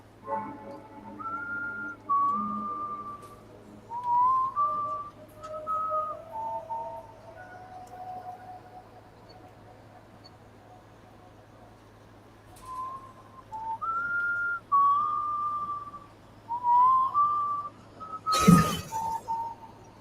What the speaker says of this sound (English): You not finished the whistle song.